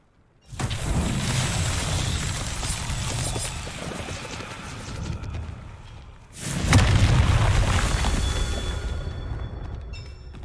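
Two heavy booming fiery blasts from the Confringo spell in Hogwarts Legacy, each a loud roaring rumble lasting several seconds, the second hitting harder after a brief dip.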